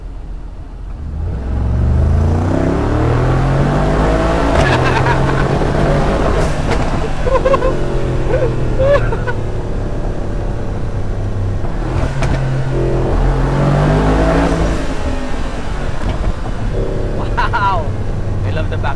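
Vorsteiner widebody Mercedes-AMG G63 with an Akrapovic exhaust revving hard nearby, deep rumbling pulls rising and falling with sharp backfire pops, under a voice talking.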